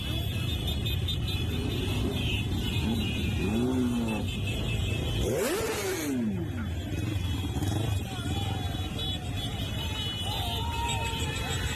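A motorcycle rally streams past as several engines rev and roar in rising and falling sweeps, one surging loudly close by mid-way, over a constant traffic rumble while someone talks nearby.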